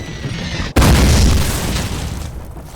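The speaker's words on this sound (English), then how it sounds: "Mortars! Mortars incoming!" A mortar shell explodes in the first Call of Duty World War II game, a sudden loud close boom after a brief lull, with a rumbling roar that slowly fades.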